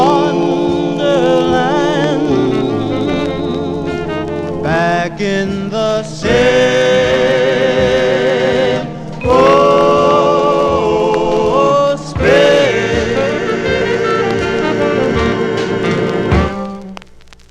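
A 1955 vinyl 45 doo-wop record plays continuously at full level, with sung vocal harmonies over a band accompaniment.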